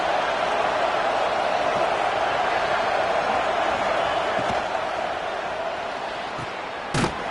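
Loud, steady roar of a college football stadium crowd during a USC at Oregon game, holding near-constant through a red zone defensive stand, with a sharp thump near the end.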